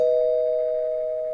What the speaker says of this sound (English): I don't know if you can hear the doorbell from the website